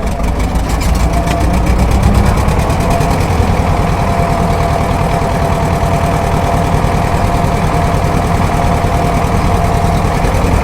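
Tractor engine running loud and close while pulling off for winter ploughing, a steady low rumbling chug with a fast knocking rhythm that holds evenly throughout.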